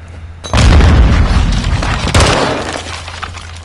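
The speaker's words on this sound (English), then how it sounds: "Grenade!" Grenade explosion in the video game Call of Duty: Modern Warfare II, a single loud sudden boom with a crackling, debris-like tail that decays over a few seconds, close and dominant.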